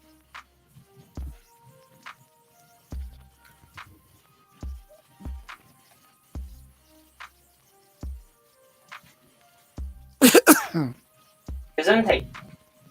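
Two loud, sharp sneezes from one person, close to the microphone, coming near the end after a stretch of sparse, quiet knocks and clicks.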